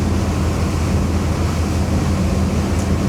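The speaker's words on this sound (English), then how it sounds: "The wind coming through the windows is quite pleasant, and it's not buffeting me." Wind rushes steadily through the open windows of a moving Riviera 395 SUV boat on a sea trial. The roar is loud and constant, with engine and water noise blended in and no talking.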